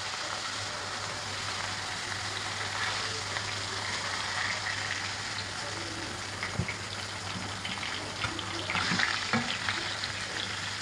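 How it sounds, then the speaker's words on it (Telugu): Fish pieces frying in hot oil, a dense continuous sizzle close by with a few faint pops and a brief utensil knock near the end, no voices. "మనం తెచ్చుకున్న చేపలను నూనెలో వేయించుకోవాలన్నమాట"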